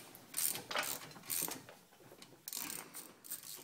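Quick bursts of ratchet clicking as a ratchet wrench undoes a T45 Torx brake caliper bolt on a 2007 Ford Fiesta during a front disc pad change, several short close rattling runs separated by pauses.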